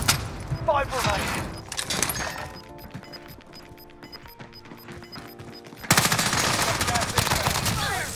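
The OTs 9 submachine gun fires in the Warzone shooter, first in quick bursts, then as a loud sustained stream of rapid shots near the end, with other battlefield noise and voices in between.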